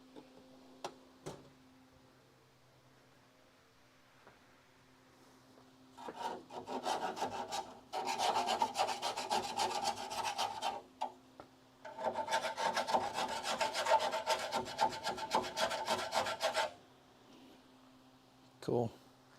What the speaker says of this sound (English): got a chainsaw file